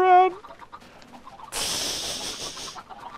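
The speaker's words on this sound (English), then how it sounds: "There's so many chickens." Minecraft chickens cluck softly in the background while a person talks, and then a bright, hissing burst of sound takes over for a second or so.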